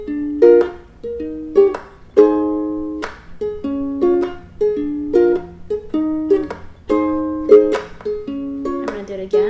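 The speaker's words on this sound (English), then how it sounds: "I'm going to play the intro, which is basically the strumming pattern that you use." Ukulele strumming from the intro of a song rings close and clear, with rhythmic chord strums and short gaps between phrases, played alone.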